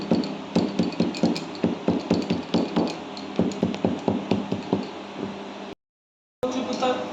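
Taro leaf veins pounded lightly with a mortar and pestle in a home kitchen, a steady run of close, sharp knocks with a brief gap of silence before the pounding resumes.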